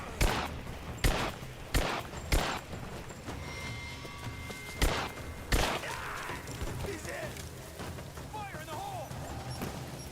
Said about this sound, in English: Okay, I'm gonna use a pistol here.